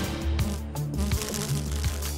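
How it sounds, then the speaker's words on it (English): A honey bee in flight in the Wild Kratts cartoon, heard as a continuous, close, droning buzz with a wavering pitch lasting about two seconds. "Incoming. A bee. He's coming in at 32 kilometers per hour"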